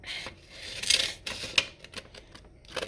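Scissors snipping through folded paper to cut out a paper dragon shape: a few quiet, close, irregular crisp snips and rasps, with no talking.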